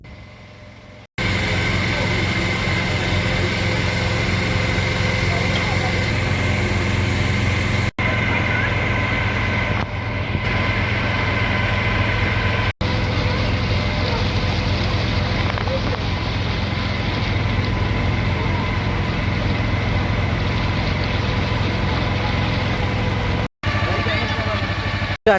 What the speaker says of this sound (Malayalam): ഇവിടുന്ന് ബോട്ട് തനിയെ തിരിക്കുന്നു.